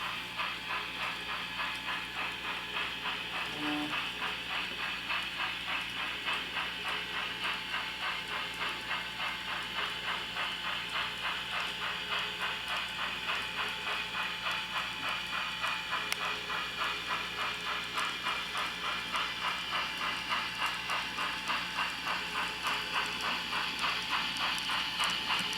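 A steady mechanical clatter with a fast, even rhythm from an N-scale model steam train running along its track, continuous and unchanging throughout.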